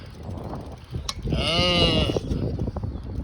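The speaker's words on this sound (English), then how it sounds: "we've got a bunch of cows here" A single drawn-out cow moo rises from the middle of the clip over outdoor background noise, fairly close.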